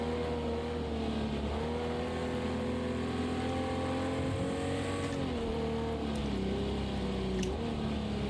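A Jaguar E-Type's engine revs on track at Watkins Glen in a racing game, with a loud, continuous drone whose pitch climbs and drops through shifts, heard alone.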